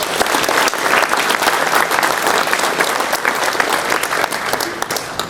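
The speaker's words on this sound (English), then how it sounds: "Let's give a round of applause to this wonderful facility" Loud, dense applause from an audience at a golf tournament gathering, sustained and steady throughout without pause.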